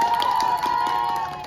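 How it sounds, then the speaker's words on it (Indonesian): A school audience at a student pageant claps and cheers in a sustained wash of crowd noise, with a bright tonal ringing running through it and a slight fade at the end. "Kasih tepuk tangan sekali lagi dong."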